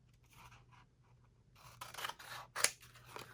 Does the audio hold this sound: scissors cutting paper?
yes